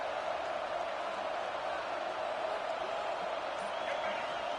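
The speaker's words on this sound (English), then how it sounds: "how nice is it to have the home crowd going bananas" A home stadium crowd cheers in EA College Football 26, a steady, fairly faint roar of massed voices sustained throughout without distinct peaks.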